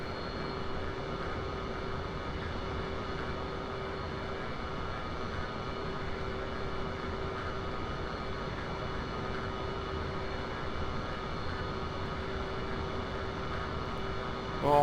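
An F/A-18C Hornet jet in the DCS combat flight simulator gives a steady, droning engine roar that holds evenly for about fifteen seconds, with no talking.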